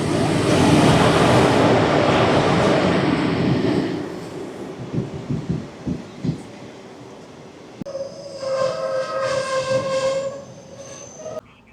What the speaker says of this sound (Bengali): চলে এসছে ট্রেন নাম্বার 13142, নিউ আলিপুরদুয়ার থেকে শিয়ালদা ডাউন তিস্তা তোরসা এক্সপ্রেস